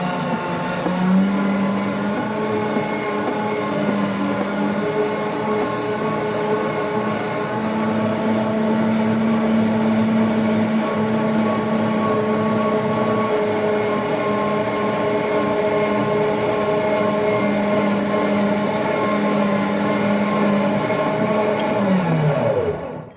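A Harbor Freight 12,000 lb winch runs on 24V LiFePO4 batteries while pulling a load, giving a loud, continuous motor whine and gear drone that holds steady for over twenty seconds before winding down at the end.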